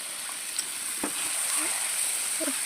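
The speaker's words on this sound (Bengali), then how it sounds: "পেঁয়াজের মধ্যে অল্প নাড়াচাড়া করে ভেজে নিচ্ছি" Onions fry with a spice paste in a pan, giving a soft, steady sizzle while a few faint spatula taps mark gentle stirring.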